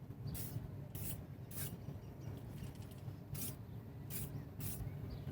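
Silicone spray hisses in several short separate bursts onto a concrete weight-plate mould, the bursts fairly loud over a steady low background hum.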